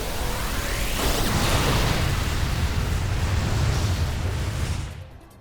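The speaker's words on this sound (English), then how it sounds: "So I'm just gonna click explosion" Explosion move effect in a Pokémon video game battle: a loud, broad rushing blast that swells and rumbles for several seconds, then fades away near the end.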